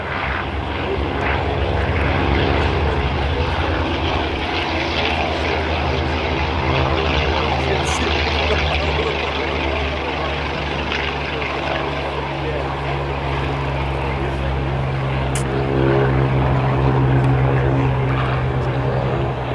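A Spitfire propeller fighter plane drones loudly and continuously nearby at an airshow, its engine roar steady and throbbing with slight swells.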